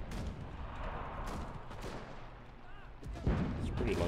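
A long-range gunshot in Enlisted, a sharp crack over constant battlefield rumble and distant gunfire, followed by a louder booming report near the end.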